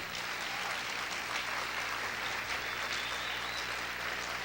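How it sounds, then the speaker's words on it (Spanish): A church congregation claps loudly and continuously, a dense wash of applause from many hands with no pauses. "¿Cuántos pueden aplaudir fuerte al Señor?"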